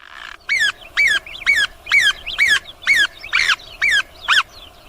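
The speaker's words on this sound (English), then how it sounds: "A single note breaks from the bird's throat, sharp and hissing, a sound the whole herd knows." A bird calls repeatedly, about ten harsh, honking notes in a steady rhythm, loud and close.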